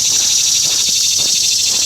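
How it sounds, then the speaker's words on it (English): Loud, continuous high-pitched buzzing of cicadas in a dense, pulsing chorus at Shiloh battlefield, with no other sounds. "Here's some cicada there."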